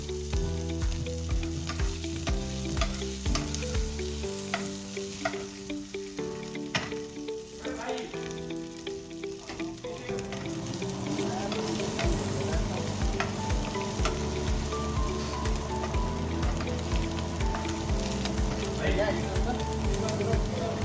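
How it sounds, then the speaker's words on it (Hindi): Cut chicken sausages sizzle and crackle steadily in a pan while being stirred, the frying noise growing louder and denser partway through, with background music and a voice sounding underneath. "मैं अपने जो भी मैंने कट किए चिकन सॉसेस उसको डाल देता हूँ पैन में"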